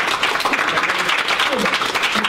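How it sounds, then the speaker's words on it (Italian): An audience claps for a woman during an Italian interview show, a steady dense wash of applause throughout the short stretch. "Maria, un applauso per lei."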